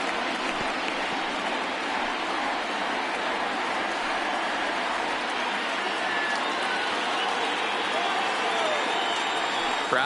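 A baseball stadium crowd at a Cardinals–Pirates game rises and roars ahead of a 3-2 full count, a broad, steady swell of distant cheering that holds evenly throughout.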